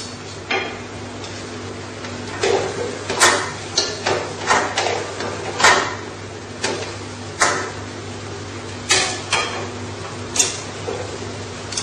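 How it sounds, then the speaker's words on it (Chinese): Metal oil net of a manual doughnut machine lifted and dropped repeatedly, giving a series of sharp clanks and rattles over a steady frying hum, loud and close. "油网反复提起几次"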